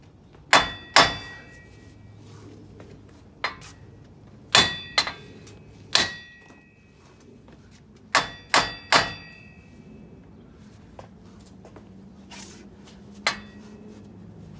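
A hammer strikes a steering knuckle on a 2002 Duramax 4x4 to free a ball joint, sharp metallic clangs in pairs and small bursts with pauses between, loud and close in a quiet shop.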